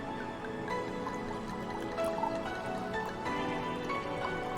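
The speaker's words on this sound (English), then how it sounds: "pouring myself a tall glass of wine" Wine poured into a tall glass at a desk, heard as a soft, close trickle of liquid with small drips and gurgles, quiet and continuous.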